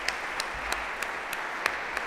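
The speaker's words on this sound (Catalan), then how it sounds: "Deixeu-me un fort aplaudiment" Applause from a gala audience honouring local businesses, a steady bed of clapping with a few sharper claps standing out, moderately distant and continuous throughout.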